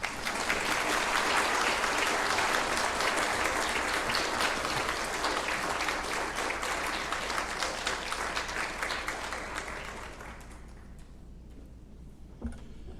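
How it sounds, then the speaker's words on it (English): Sustained applause from a conference audience at a money and investing event, dense and steady for about ten seconds before thinning and fading out near the end. "Let's give him another round of applause."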